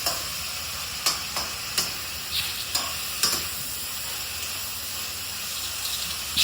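Onions with garlic and ginger sauté in a pan for a duck curry, a steady hiss of frying broken by several sharp scrapes of a spatula stirring, close and alone without talk.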